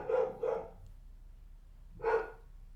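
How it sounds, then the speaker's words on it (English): Dogs barking nearby: two quick barks, a pause of over a second, then one more bark, fairly loud against a quiet background. "Dogs are barking."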